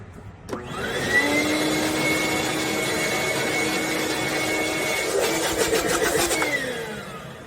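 A shop vac powered by a 3000W modified sine wave inverter starts up with a rising whine, runs steadily and loud at close range, then winds down as it is switched off.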